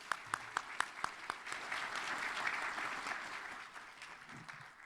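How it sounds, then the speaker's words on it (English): Scattered individual claps at an awards celebration for women leaders quickly build into a moderate round of audience applause that holds, then thins toward the end. Heard at a fair distance and fairly quiet. "Let's give ourselves all a big round of applause."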